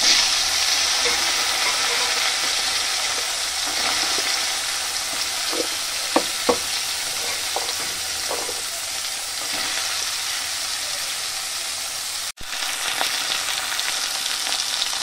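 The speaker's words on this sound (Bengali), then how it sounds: "তো একে একে আমি এবার কচুরলতিগুলো সব দিয়ে ভেজে নিচ্ছি একটুখানি।" Taro stolons (kochur loti) frying in oil, a steady close sizzle with a few sharp clinks and stirring taps from a utensil, and no voices over it.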